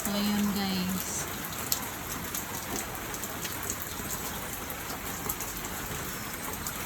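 Steady morning rain pours down in a dense, even hiss of drops striking surfaces, with a brief low tone and a faint voice near the start before the rain carries on alone.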